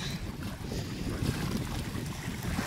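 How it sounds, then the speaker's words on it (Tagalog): Strong wind buffets the microphone at a seaside spot, a continuous roaring gust with surf and open-sea noise underneath, loud and close throughout with no speech. "Medyo mahangin po dito sa aming spot"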